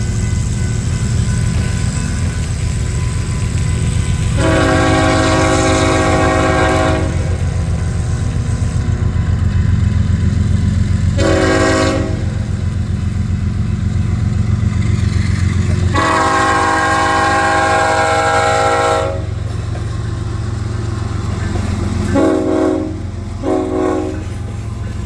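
A Kansas City Southern freight train rolls past with a steady low rumble of wheels and cars, while the locomotive horn sounds loud, close blasts in a long-long-short-long pattern.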